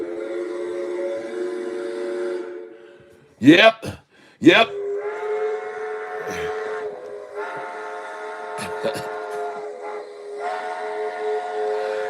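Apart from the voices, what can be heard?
train whistle sound effect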